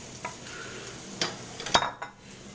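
Onions and aromatics tumbling into a hot pan for paella-style risotto, with a steady sizzle broken by a few sharp stirring clatters and utensil scrapes, close by and with no talking.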